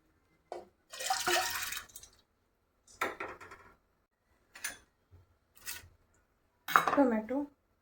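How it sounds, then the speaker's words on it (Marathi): Dal rinsed with water in a pot, heard as several short bursts of splashing, swishing and clinking against the metal, separated by brief pauses, fairly close and clear with no talking. "डाळ धुवून टाकूयात."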